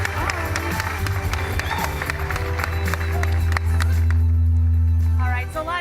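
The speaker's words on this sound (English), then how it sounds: "Let's give them a round of applause." An E3 panel audience applauds the Santa Monica Studio team with loud, sustained clapping and some cheering, swelling as the team comes on stage, over a low hall hum.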